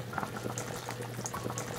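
Black chicken stewing with herbal medicine in a pot bubbles at a steady boil, a close, continuous simmer of popping bubbles with no voices.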